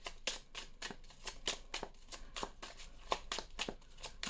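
Oracle cards being shuffled from a deck, a quick run of crisp riffling flicks repeated in steady bursts, close and fairly quiet, with no talking.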